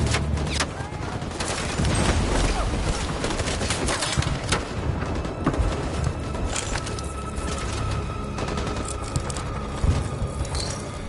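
Heavy gunfire in the video game Detroit: Become Human, dense overlapping shots and bursts cracking loudly through eleven seconds of battle noise with booms beneath.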